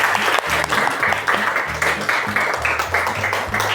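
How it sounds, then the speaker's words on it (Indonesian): A classroom of students claps together, a dense, loud burst of many hands with a few voices mixed in, steady throughout and close by. "tepuk tangan untuk Ria."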